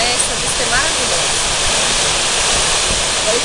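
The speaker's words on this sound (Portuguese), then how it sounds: "essa é a cachoeira, a primeira cachoeira, que é Morena" Morena waterfall at Serra do Cipó in Brazil roars as a loud, constant broadband rush of falling water, close and steady throughout.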